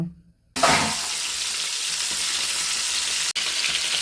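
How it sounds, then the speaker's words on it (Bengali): Pabda fish rubbed with salt and turmeric hit a hot frying pan after a brief quiet moment, then a loud, close, continuous sizzle follows, broken once by a short dropout. "এবার একটা একটা করে আমি ভেজে নেব"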